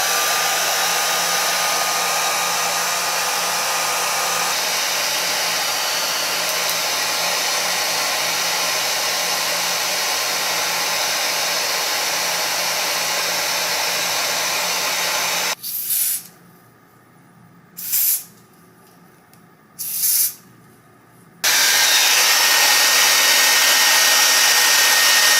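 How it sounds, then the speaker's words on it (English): A hair dryer blows hot air over a 13x6 clear lace wig in a steady, loud, continuous rush. It cuts out briefly a few times near the end and then starts up again. "And now I'm just gonna blow dry it,"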